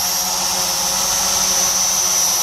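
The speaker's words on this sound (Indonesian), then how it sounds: "Saya gerakan ke arah kiri, drone juga ikut ke kiri." An SG900 drone hovers and flies under hand-gesture control, its motors giving off a steady, loud, close whir with a high whine and no break or voices.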